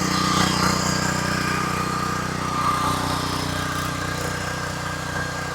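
A back rotary power tiller churns very wet clay soil in a field, its engine droning loud and steady with a constant mechanical rumble and no pauses.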